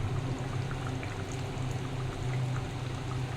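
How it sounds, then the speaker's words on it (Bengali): Raw mustard oil is drizzled over a finished pabda fish curry in mustard-poppy gravy, producing a soft, steady pouring and bubbling sound that stays quiet and close. "আর একটু কাঁচা তেল উপর থেকে সর্ষের তেল দিয়ে দিচ্ছি।"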